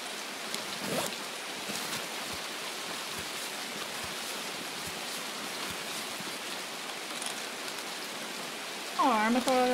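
Steady rain falls in the video game Escape from Tarkov, a soft, even hiss of drops on surfaces that continues unbroken, with a brief voice near the end.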